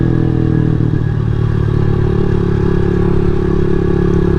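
A Rusi Classic 250 motorcycle rides a last lap through city streets, its engine droning loud and close with a steady throbbing hum and some rattling clatter throughout.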